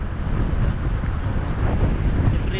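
Strong headwind buffets the microphone during a mountain bike ride in Dubai, a steady loud roar of wind rumble that runs without a break and has no voices over it.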